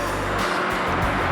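Road traffic rumbles past close by, a continuous loud wash of engine and tyre noise with vehicles swelling through, no talking over it.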